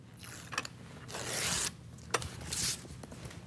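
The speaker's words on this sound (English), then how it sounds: "So I'll just peel off the backing" Adhesive backing is peeled off a router table runner in a woodworking shop, giving a few close, crackly tearing strips of varying length with short gaps between them.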